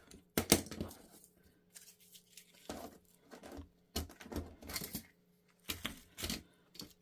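Scissors snip sewing fabric in several short, sharp bursts with pauses between cuts, close and fairly quiet.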